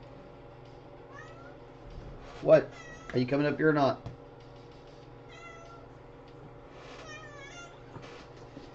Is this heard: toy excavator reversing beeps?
no